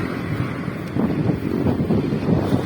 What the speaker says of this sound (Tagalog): Ang hangin, grabe.